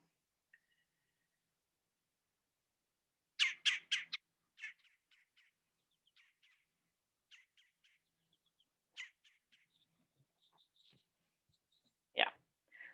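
Wild woodpeckers in Chicago give a run of sharp chatter calls, several quick notes in loose bursts with pauses between, fairly faint and distant, ending with one louder call.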